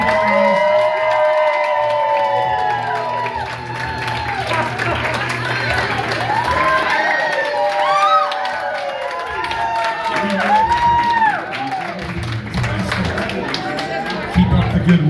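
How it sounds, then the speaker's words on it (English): Audience applause and cheering at a drag pageant fill the room in a steady, dense wash, with voices shouting and talking loudly over the crowd throughout. "So let's give Marjorie Lyons a huge round of applause."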